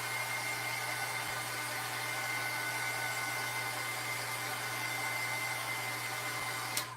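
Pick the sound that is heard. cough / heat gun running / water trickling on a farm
heat gun running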